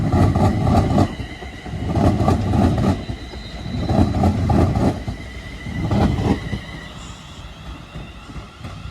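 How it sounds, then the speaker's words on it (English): A London Northwestern Railway Class 350 electric multiple unit runs past at Crewe station on a Liverpool Lime Street to Birmingham New Street service, loud and close, with rhythmic bursts of wheels clacking over rail joints. "here comes the London Northwestern Railway service to Birmingham New Street from Liverpool Lime Street"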